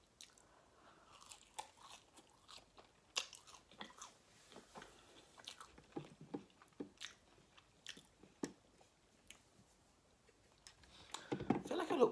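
McDonald's fries being eaten up close: quiet, irregular crunchy bites and chewing clicks scattered throughout, with a louder rustle near the end.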